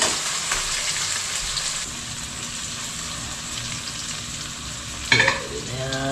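Onion and garlic fry steadily in sunflower oil, a continuous close sizzle with a sharp burst of louder spattering near the end as something is stirred or added.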